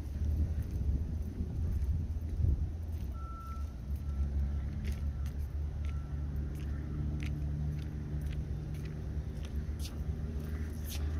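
An Axial SMT10 Grave Digger RC monster truck drives nearby with a low, continuous motor rumble, fairly quiet and steady, with faint scattered clicks and ticks over it.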